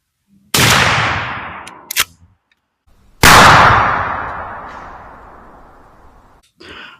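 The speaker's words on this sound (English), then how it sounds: "we fired the first 3 shots from the Remington Express Buckshot, the single aught" Two booming blasts from a 12 gauge shotgun loaded with Remington Express #0 buckshot, close and very loud, each trailing into a long decaying echo across open ground, with brief clatter between shots.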